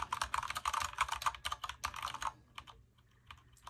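Quick bursts of typing on a compact Drop Shift mechanical keyboard with tactile switches, close and crisp clicks in a rapid flurry that thins to a few isolated keystrokes before stopping.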